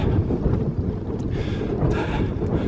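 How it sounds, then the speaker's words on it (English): Loud low rumbling wind buffeting the microphone, continuous and gusty, with no voice present. "So I must apologise for the wind"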